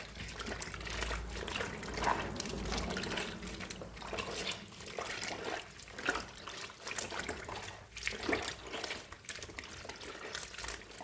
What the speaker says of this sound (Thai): ล้างเมล็ดออก